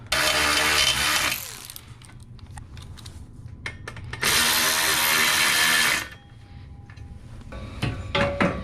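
A power tool whirs in two loud sustained bursts, tightening intercooler bolts on a 2007–2013 R56 MINI Cooper S, with a quieter mechanical rumble and scattered clicks in between.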